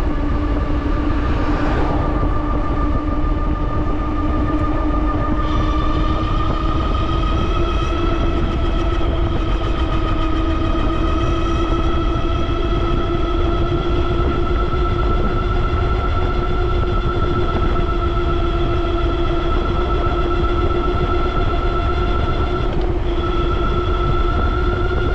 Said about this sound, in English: That was the dual motor going.